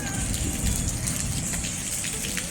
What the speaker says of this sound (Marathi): पाऊस आलाय पाऊस.